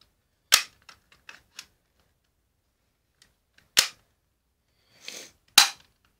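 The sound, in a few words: BB gun being loaded and shot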